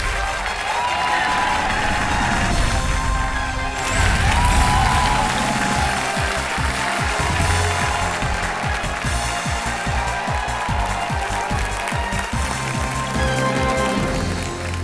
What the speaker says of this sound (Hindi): तालियां बजती रहें देवियों सजनों।